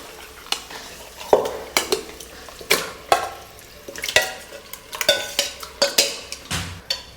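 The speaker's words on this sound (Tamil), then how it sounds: "இப்போது சிக்கனை ஆட் பண்ணிக்கிட்டு நல்லா மிக்ஸ் பண்ணி விடுறோம்." A spoon scrapes and knocks against a biryani pot as marinated chicken is stirred in, a series of close, sharp, irregular clanks over a faint sizzle, without speech.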